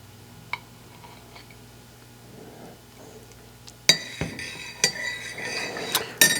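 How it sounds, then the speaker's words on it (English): A spoon stirs a teaspoon of sweet fern into a cup, starting with faint scraping, then bright, close metallic clinks against the sides, coming in quick irregular taps. "we're just going to put a teaspoon of this in there"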